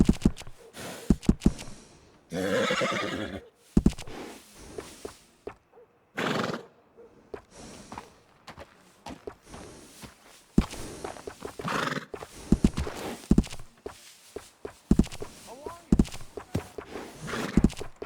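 A horse in the video game Red Dead Redemption 2 neighs loudly in several bursts between clopping hooves and shuffling steps, close by, with brief quiet gaps and occasional soft sounds between.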